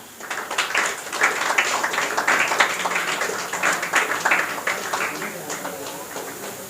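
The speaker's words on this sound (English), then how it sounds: "You have to keep clapping." An audience at a school award ceremony claps steadily for several seconds, the dense applause swelling and then tapering, with voices talking over it.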